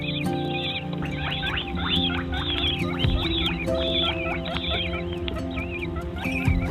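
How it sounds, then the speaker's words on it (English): Peregrine falcon chicks in a nest call repeatedly with shrill, wavering cries in quick bursts, close and fairly loud over a low background hum. "with the chicks calling at him"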